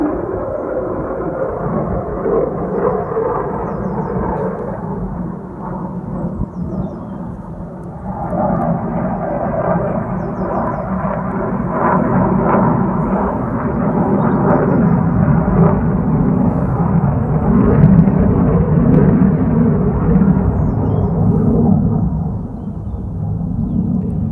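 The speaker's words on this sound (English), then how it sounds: "here come the planes from Marham" Deep rumbling jet engines of aircraft from Marham swell and linger overhead, a low continuous roar that rises and falls as they pass.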